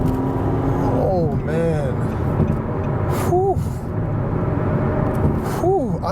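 A 2018 Nissan Maxima S accelerates hard, its engine note rising steadily and loud from inside the cabin, with a short spoken exclamation over the engine.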